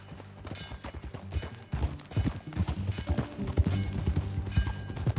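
Horse hooves clip-clop in a steady rhythm in Red Dead Redemption 2, growing louder and more continuous after a quiet start, with no voices.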